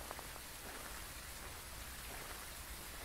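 Heavy rain in the ghost-hunting video game Phasmophobia, a dense, steady wash of falling drops, faint and uniform with no other sounds.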